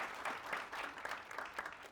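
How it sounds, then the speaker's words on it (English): Studio audience applause, a steady patter of many hands clapping at moderate distance, fairly soft and continuous for about two seconds. "Can we just give that a round of applause?"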